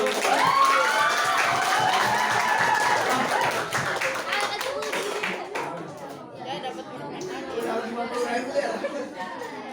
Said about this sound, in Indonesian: Wih, tepuk tangan.